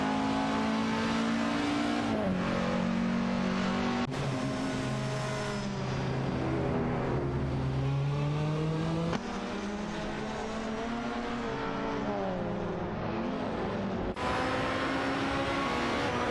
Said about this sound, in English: tight race for the 3rd position between East John 7 in an Ozelapat 21 Honda and Samusura, and Neo Texum in a Wire Concept, Finio 4 RC